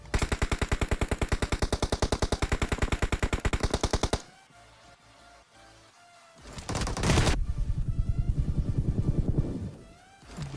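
Automatic gunfire from the video game Battlegrounds: a fast, loud rattling burst for about four seconds, a quieter pause, then another dense stretch of heavy rapid shots and rumble.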